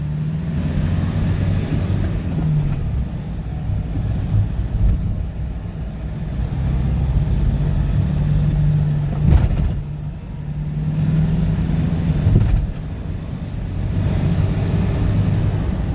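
A car engine idles steadily at low RPM during fault diagnosis of an EGR problem, a continuous close rumble with a few brief bumps and no talk.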